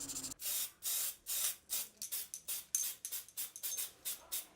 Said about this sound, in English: The scabbard is cleaned, hung and coated with black spray paint.